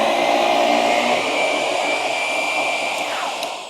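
A Shark NV360 Navigator Lift-Away Deluxe upright vacuum runs on its bare-floor setting, a steady loud whirring motor drone with a slight pitch drop near the end.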